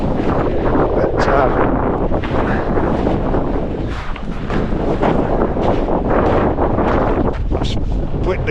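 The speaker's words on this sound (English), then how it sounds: "I've just measured the wind speed. It's about 15 gusting to 20" Strong wind of about 15 gusting to 20 in a mountain blizzard at -4 degrees buffets the microphone in loud, continuous roaring gusts, with rushing noise swelling and easing throughout.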